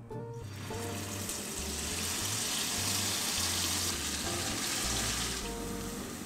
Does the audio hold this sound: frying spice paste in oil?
yes